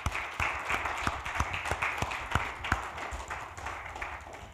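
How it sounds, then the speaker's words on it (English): A sparse round of applause from a small audience at a church program with Pastor John Collins, irregular claps and taps over a steady room murmur, moderately close and fairly quiet. "I'm going to give her a round of applause for it."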